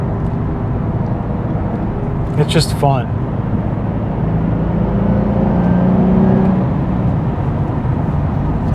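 A Nissan 350Z engine with a turbo builds into a steady, rising drone as the car accelerates, heard from inside the cabin under a man's brief remark.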